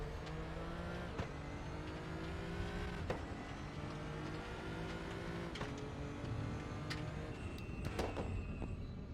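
A race car in the RaceRoom VR simulator laps the Nürburgring Nordschleife, its engine droning and revving through gear changes with sharp shifts and brief tire noise, alone without talk.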